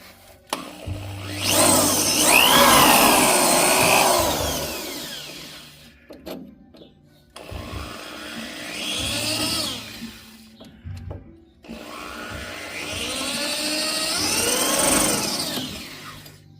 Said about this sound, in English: now I'm going to start drilling out the rivets